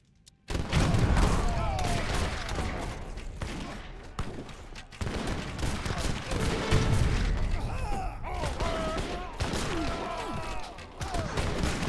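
A Gatling gun and cannons trading fire in Age of Empires III Definitive Edition: dense, overlapping gunshots and heavy booms rattle on almost without pause, a busy battle din with a faint voice now and then beneath.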